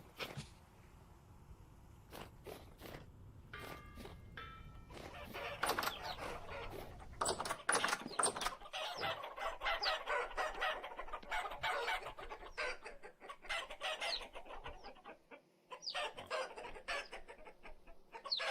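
Chickens in the video game Vintage Story cluck busily and continuously, several birds together at close range, with scattered clicks early on and no talk.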